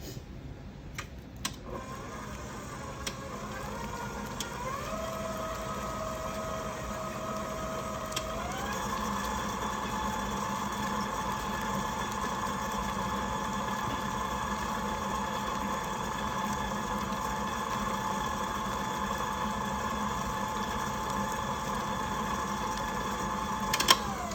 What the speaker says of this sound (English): I've got one added. I'm going to start mixing.